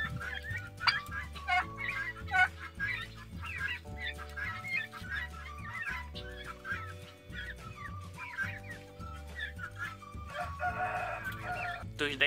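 Poultry on a farm, turkeys and young poults, calling and clucking repeatedly at moderate distance over a steady low background, with a rooster-like crowing among the calls.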